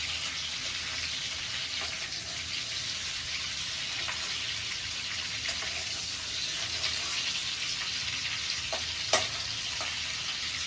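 Whole shrimp frying in a pan of oil for a shrimp malai curry, a steady close sizzle running throughout with a few brief sharper pops, no voices.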